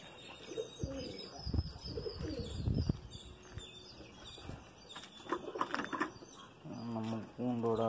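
Pigeons in a home pigeon loft, soft repeated cooing with scattered chirps and a brief flutter of wings, heard up close while a person talks over them.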